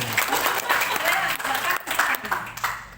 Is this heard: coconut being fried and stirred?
no